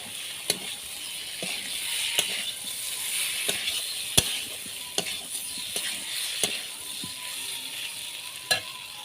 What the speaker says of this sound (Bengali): সব মশলাগুলো কষানো হয়ে গেলে এখন আমি ভেজে রাখা আলু এবং পটল দিয়ে দেব